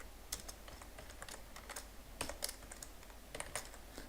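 Keys clatter on a computer keyboard as C code for a for-loop is typed, irregular clicks in quick bursts with short pauses, close and clear over a quiet room.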